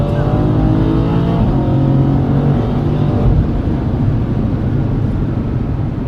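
A BMW F20 M135 with a swapped 800 hp S63 twin-turbo V8 roars close by as it accelerates hard on the Autobahn, its deep revving pitch climbing through gears in a continuous loud pull.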